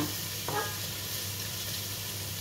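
Tofu sizzles steadily as it roasts in a hot pan, a constant bright hiss with a brief clatter of stirring near the start and no voices over it.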